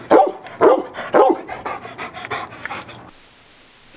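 Dogs bark and yip at a pool fence in a quick run of loud, close bursts, then pant and whimper more softly before a hiss of background noise.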